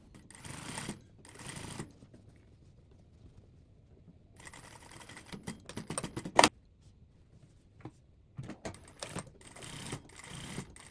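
A sewing machine edge stitches the facing of a shift dress at the V neckline, running in several short bursts separated by pauses, with quieter handling noises and soft clicks in between.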